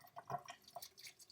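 Whey from milk curds drains through a kitchen towel with faint, scattered drips and light trickling, quiet and close, with no talking.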